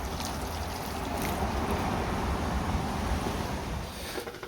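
Water poured onto a potted cactus and aloe plant on a balcony, a steady broadband splashing trickle that runs fairly loud and continuous for a few seconds before easing off, with no talking.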